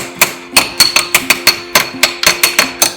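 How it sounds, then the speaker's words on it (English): A hammer taps lightly and repeatedly on a part during a repair, about a dozen sharp metallic knocks in a quick, slightly uneven rhythm, close and clear. "And then give it a little tap, tap, tappy."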